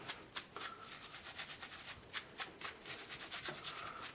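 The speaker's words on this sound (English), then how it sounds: "Scrub her down with the all-purpose brush." An all-purpose brush scrubs an AR-15 bolt cam pin coated in CLP, making close, faint, bristly rubbing strokes in an uneven back-and-forth rhythm.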